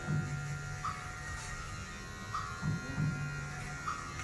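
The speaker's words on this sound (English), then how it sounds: "I'll go that way with the clippers as well" Electric hair clippers cutting a flattop haircut give a continuous close buzzing hum, with a few brief louder catches spaced through it as the blades pass through the hair, and no talking.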